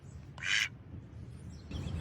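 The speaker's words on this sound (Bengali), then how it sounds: "হঠাৎ করে বাইরে থেকে হাঁস ডাকবার শব্দ আসছে কেন?" A duck in a cartoon gives one loud, harsh quack outside, followed by quieter rustling and a second softer burst near the end.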